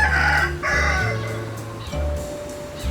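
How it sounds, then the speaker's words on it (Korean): Roosters crow loudly and repeatedly at close range, with hens clucking among them, in a farmyard beside a garden of hanging plants. "오늘도 닭들은 우렁차네요."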